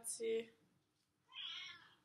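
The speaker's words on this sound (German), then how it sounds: "wenn man meine Katze schreien hört" A hungry cat meows twice, faint and drawn out, with a short pause between the cries and a voice speaking softly alongside.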